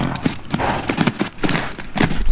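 Horse hooves clip-clop in a steady rhythm at the barn in the horse-riding game Tales of Rein Ravin, loud and close, with a faint whinny.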